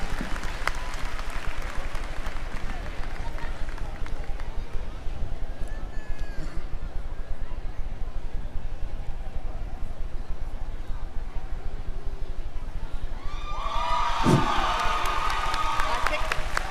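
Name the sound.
crowd applause at a state fair steer show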